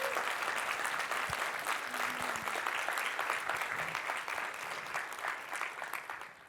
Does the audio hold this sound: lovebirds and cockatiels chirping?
no